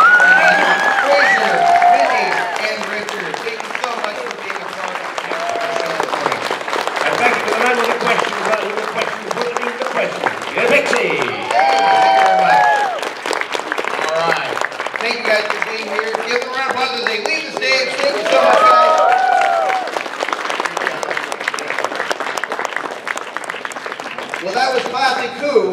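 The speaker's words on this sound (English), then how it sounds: "Let's give our panelists an amazing round of applause." Convention audience applauding panelists at a Doctor Who fan event, WhoFest 3; steady sustained clapping with cheers fills the room, mixed with voices and a chatty crowd throughout.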